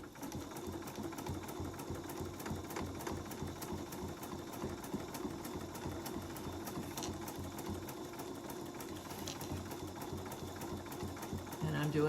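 Sewing machine stitching around quilt binding in the ditch on a quilt-as-you-go turkey trivet, a continuous rapid mechanical hum at moderate level throughout, with faint talking underneath.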